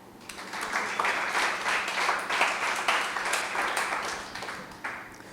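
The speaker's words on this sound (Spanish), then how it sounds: "Dale un aplauso al Señor." A church congregation applauds during a sermon, a dense steady wash of many hands clapping that holds for several seconds, moderately loud and a little distant, with no speech over it.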